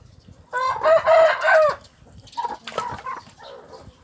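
A hen lets out a loud, drawn-out squawking call close by, followed by a few shorter, quieter clucks.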